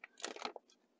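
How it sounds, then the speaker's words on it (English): A brief crinkly crunch of plastic packaging being opened with a knife, a few quick rustling bursts close by and quiet. "get this package opened up"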